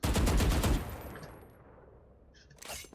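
Gunfire in Valorant opens with a short, loud, rapid burst of shots that dies into a fading reverberant tail. A brief, softer burst of noise comes near the end.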